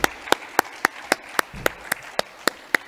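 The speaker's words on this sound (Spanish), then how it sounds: "Fuerte aplauso para el maestro" Sharp, evenly spaced claps ring out one after another at a steady rhythm, crisp and moderately loud with a faint room murmur underneath, applause for a speaker at a round-table conference in Burgos, Spain.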